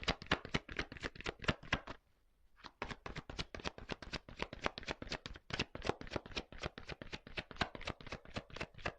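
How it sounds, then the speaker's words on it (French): A deck of tarot cards is handled and a card drawn, giving rapid, crisp flicking clicks in a dense run, a short pause, then more fast ticking, close and with no talking. "Allez, je prends une carte encore."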